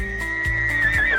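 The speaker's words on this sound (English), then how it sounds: "Now let's find the horses." Horses neigh in a single loud, close, quavering whinny that holds for about a second, with soft hoof clip-clops underneath, alone with no speech.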